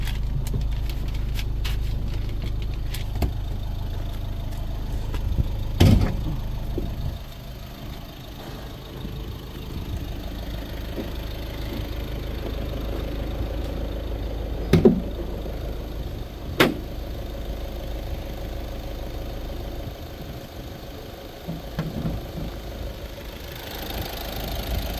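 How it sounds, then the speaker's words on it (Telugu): A car engine idles steadily with the bonnet open, a low, even hum that runs throughout, broken by a few sharp clicks and knocks. "ఇంజన్ బీటింగ్ అయితే మాత్రం చాలా బాగుందండి"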